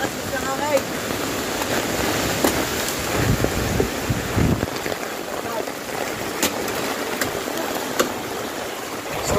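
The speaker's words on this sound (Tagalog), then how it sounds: "Ang lakas ng bagyo. Yah. Napakalakas ng hangin." Strong typhoon wind roars and buffets the microphone continuously, a dense rushing noise with occasional gusts and faint voices beneath.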